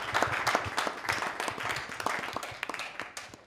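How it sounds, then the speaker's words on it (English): An audience at a talk event in Zimbabwe applauds its five speakers with brisk, close, scattered clapping that thins out toward the end. "can we give a round of applause for our 5 speakers?"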